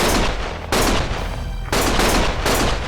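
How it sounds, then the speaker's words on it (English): Loud, dense gunfire in the Lost Judgment video game, rapid bursts of shots in two heavy volleys separated by a short lull, close and overwhelming with no speech. "Stop shooting!"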